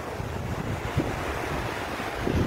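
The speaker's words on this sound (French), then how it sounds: "Donc remarquez ces vagues." Sea waves wash steadily against the shore by the ocean, a soft, continuous rushing surf with wind noise on the microphone and a couple of slightly stronger surges.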